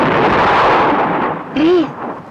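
A ship's cannon fires as a signal shot, a loud broad rumbling boom that fills the first second and a half and then decays, followed by a brief tonal cry.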